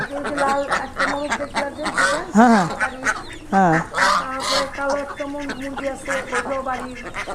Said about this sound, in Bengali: এখানে কি ম্যাক্সিমাম বাসার হাঁস, বাসার মুরগির বাচ্চা?